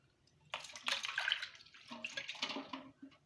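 A mixed drink is poured, splashing and trickling in uneven bursts with short pauses for about three seconds, close and moderately loud, with no speech.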